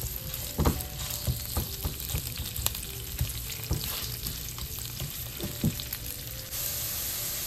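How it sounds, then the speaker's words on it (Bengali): Onions and chopped green chillies sizzle steadily in hot oil for a fish kofta curry, a dense close frying hiss broken by regular stirring scrapes and knocks, with no voices. "পেঁয়াজটা ভাজা ভাজা হয়ে গেছে"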